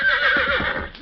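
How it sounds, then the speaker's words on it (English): A horse gives a loud, close whinny that shudders and trails off, with faint hoof thuds underneath. "Now get that horse out of there"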